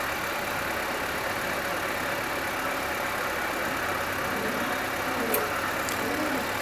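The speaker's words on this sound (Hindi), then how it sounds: "तो ये अपना कट का आवाज़ आ गया।" A Maruti Suzuki car engine idles with a CNG kit fitted, a steady mid-pitched rumble with a brief click late on as the kit cuts over from petrol to CNG.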